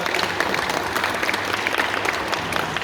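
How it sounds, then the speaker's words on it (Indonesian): Steady, even applause from a seated audience at a panel discussion fills the whole short stretch, dense and moderately loud without pause. "Tepuk tangan untuk beliau."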